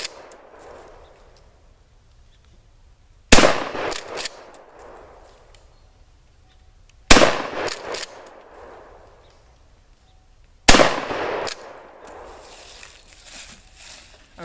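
A Remington 870 shotgun fitted with a Blackhawk stock fires three loud, sharp shots spaced a few seconds apart, each followed by a short ring-out and mechanical clatter.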